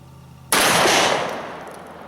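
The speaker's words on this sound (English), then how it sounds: "what I think I'll do is just zoom in on the target as I take this shot" A single loud shot from a Remington 11-87 Police shotgun fired at a target outdoors, a sharp blast that cuts through quiet background and then fades in a long echoing decay.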